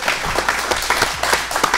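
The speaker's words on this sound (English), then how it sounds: "Can we get a big round of applause for our panel today?" Dense applause from a panel audience at a Portland hip-hop community event, steady clapping throughout with a murmur of crowd beneath it.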